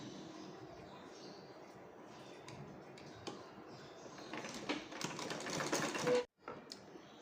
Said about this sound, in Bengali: একটা কাপড়ের উপরে আরেকটা কাপড় বসিয়ে চারিদিক ঘুরিয়ে সেলাই করে নিচ্ছি।